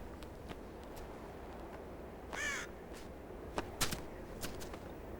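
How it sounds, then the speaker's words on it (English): A raven caws a few times at middle distance near an otter den hole in Yellowstone, the calls brief and clear over a quiet outdoor background with faint rustling. "A raven arrives, joining the search around the hole for leftovers from the otter's meals."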